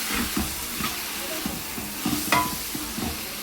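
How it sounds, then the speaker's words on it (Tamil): Spice paste for a Kerala chicken curry sizzles in a pan while a spoon stirs it in quick, repeated strokes, close and moderately loud. "நல்லா இதை வதக்கணும்."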